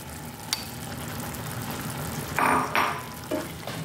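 Carrot cubes cook in a pot of boiling water for a chicken salad, with a steady bubbling hiss and a few louder sloshing bursts and clinks partway through.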